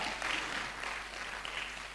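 A church congregation at a Sunday service claps steadily for a couple of seconds, a dense, even wash of applause at moderate volume.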